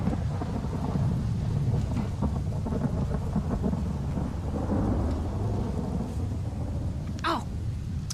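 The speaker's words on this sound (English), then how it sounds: "John states that because of the storm, Uncle is probably sheltered in a dry place nearby" A thunderstorm in the video game Red Dead Redemption: steady heavy rain hisses throughout while deep thunder rumbles and rolls underneath, loud and enveloping, with no talking.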